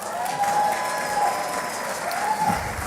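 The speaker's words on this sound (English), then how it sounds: "Let's give them one more round of applause." A short burst of audience applause at a board of education swearing-in meeting, steady clapping from a seated crowd with a faint tone ringing in the room.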